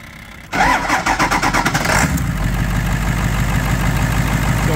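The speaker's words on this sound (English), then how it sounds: "Ethan, go ahead and turn your glow plugs on, get it ready, and then go ahead and start it when you're ready." A diesel vehicle engine cranks and fires up at close range after its glow plugs have warmed, with a burst of cranking pulses settling into a steady, rumbling idle.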